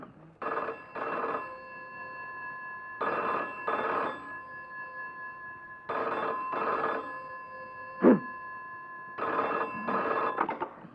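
An old-style telephone bell rings in repeated double bursts with short pauses between, clear and close, with a brief knock in one gap.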